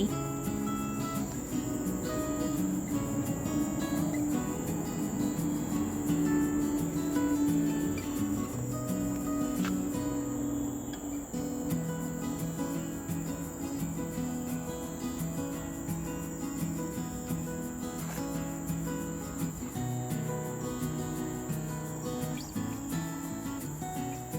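Crickets chirp steadily through a forest at night along with other insects, as a dense, continuous high-pitched trilling that stays loud and close throughout, with no talking.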